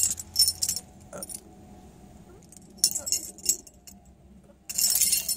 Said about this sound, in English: here's the key. I put the foil on it, and here are my key rings.